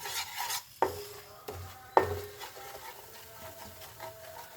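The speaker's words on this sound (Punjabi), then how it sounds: "ਮੈਂ ਟਮਾਟਰਾਂ ਦੀ ਪਿਓਰੀ ਪਾਉਂਗੀ" Tomato puree being stirred into roasted gram flour in a pan for a spinach dum aloo dish, with a few sharp spoon scrapes and a soft wet sizzle between strokes, close and without talk.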